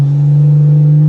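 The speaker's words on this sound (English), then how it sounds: "let's see what the anti-lag sounds like in the B58" BMW B58 single-turbo inline-six with anti-lag engaged, holding a loud, steady, close droning engine tone with no audible pops or breaks across the short stretch.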